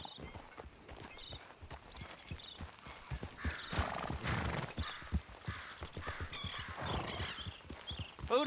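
Horse hooves clip-clop in a steady walking rhythm in Red Dead Redemption 2, close and moderately loud, with a few brief whinnies and rustling mixed in.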